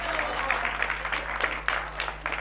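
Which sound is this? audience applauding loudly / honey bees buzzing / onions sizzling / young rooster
audience applauding loudly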